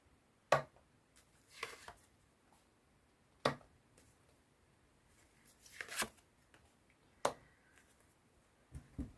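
Fortune-telling cards are handled and shuffled in a quiet room, giving sharp, intermittent snaps and riffles spaced a second or two apart, faint and close with no talk.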